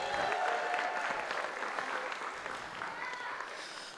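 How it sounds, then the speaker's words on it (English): An audience at a Boulder Comedy Festival show applauds in a steady, full burst that fades slightly over about four seconds. "One more round of applause for the comics you're going to see tonight."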